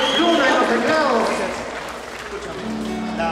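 Audience applause for the band members at a live concert: dense clapping and crowd noise under a loud announcer's voice, slowly thinning out.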